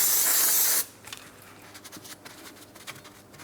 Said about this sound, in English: Now we'll just give it a quick rinse with some parts cleaner